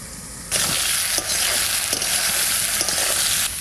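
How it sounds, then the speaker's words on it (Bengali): Pieces of ridge gourd drop into a hot pan with potatoes, and a loud, steady sizzle of frying takes off at once, broken by brief stirring scrapes. "এবারে ঝিঙে কটা দিয়ে দিচ্ছি।"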